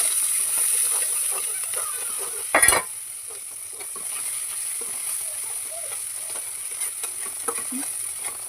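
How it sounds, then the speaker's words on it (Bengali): Chopped onion frying in hot oil with cumin seeds, a quiet steady sizzle with a sharp clatter near the start and faint stirring taps. "তারপর পেঁয়াজ কুচি দেওয়া হলো"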